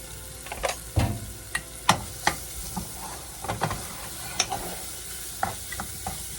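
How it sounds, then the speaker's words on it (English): Ham and onions sauté in a pan with a soft steady sizzle, broken by scattered scraping stirs and utensil knocks against the pan, close and fairly quiet. "We're just going to saute this around for just a few minutes"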